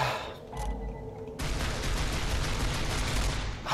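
Rapid pistol fire in the Gears of War: Judgment video game, a dense run of shots crowding together loudly and continuously after a brief quieter lead-in.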